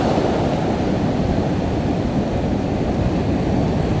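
Strong wind blows along a coastline during a cyclone, producing a dense, unbroken roar that is loud and constant with no voices.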